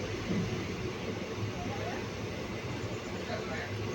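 The 13027 Kaviguru Express runs at night through a station where it does not stop, heard from on board as a steady, moderate rumble of wheels and carriage with no clear breaks, while a voice talks over it.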